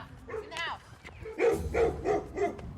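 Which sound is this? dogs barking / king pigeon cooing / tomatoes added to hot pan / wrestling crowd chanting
dogs barking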